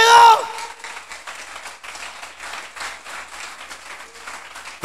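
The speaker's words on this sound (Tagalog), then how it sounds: "Palakpakan natin ang Panginoon." A church congregation claps together in rapid, even rhythmic applause, a dense crowd sound that holds steady after a loud voice opens the moment, with a brief shout at the very end.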